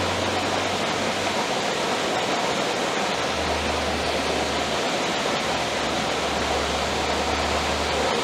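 Continuous rushing water of a waterfall at an outdoor painting site, a steady, dense hiss and roar with no breaks and a faint low hum underneath.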